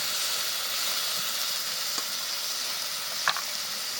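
A soybean and egg curry sizzles in the pan after a little water goes in with the ground spice paste, a steady, close hiss of frying with a couple of faint clicks from stirring.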